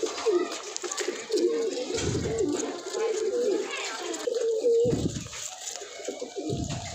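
Red checker pigeons coo in a repeated, rolling rhythm close by, the low throaty calls recurring throughout with a light background hiss.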